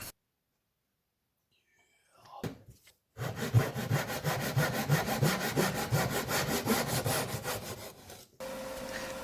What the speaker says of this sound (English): this time I got the Temple Tools Little Demon